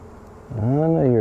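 Honeybees from late-summer hive nucs buzz close by, a steady droning hum that swells in loudness about halfway through and holds there.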